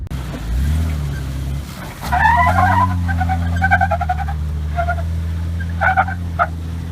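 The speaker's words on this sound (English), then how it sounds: "you're going up some of that slick rock and you're kind of turning as you go up it, you're gonna hear your tires chirp and bark" An engine hums steadily while off-road tires give short, squeaky chirps in quick irregular bursts on slick rock, close by.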